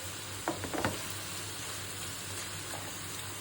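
Chopped tomato frying in a pan for a noodle sauce, a steady soft sizzle with a few quick scraping stirs near the start, close and fairly quiet.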